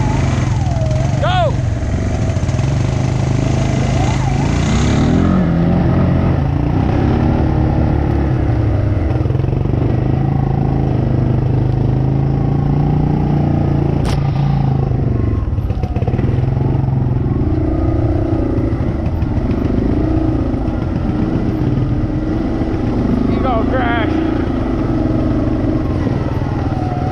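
A motor vehicle engine pulls along in first gear on a rough trail into a beaver dam site, holding a loud, steady, close droning rumble with some clatter and occasional voices.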